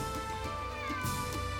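A cat meows in the video game Suikoden V, a short meow over a continuous bed of game music and ambience.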